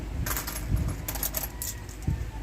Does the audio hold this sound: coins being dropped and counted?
yes